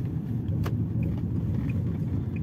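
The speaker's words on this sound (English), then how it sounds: "let this car pass." A car rumbles past nearby with a steady low engine and road noise, holding fairly constant for a couple of seconds, no voices.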